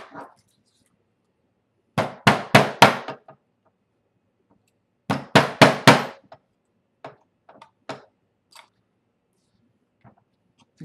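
Two quick bursts of four sharp hammer strikes each set rivets into a leather tomahawk sheath, loud and close, followed by a few lighter scattered taps and handling knocks.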